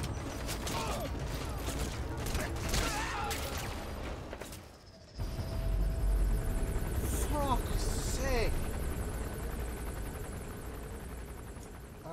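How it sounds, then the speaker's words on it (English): A helicopter lifting off in Metal Gear Solid V: The Phantom Pain throbs with steady rotor noise and mechanical rattle amid game effects. The sound briefly drops out, then returns louder, with speech over it. "They spotted a chopper lifting off southwest of Kungenga Mine."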